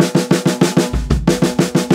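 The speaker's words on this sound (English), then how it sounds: "six in the hands, two in the foot, and we'll just put it on the snare drum first" Snare drum strokes in an even, rapid sticking pattern with kick drum thumps mixed in, played close and loud for a couple of seconds.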